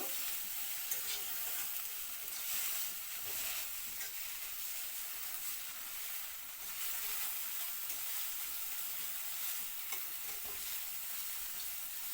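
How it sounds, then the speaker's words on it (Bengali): Ground spice paste with turmeric and salt frying in a pan for a tangy-spicy maurola fish curry, giving a steady, moderately faint sizzle with light stirring throughout, no voices. "মশলা যেহেতু ভালো করে ভাজা ভাজা করতে লাগবো"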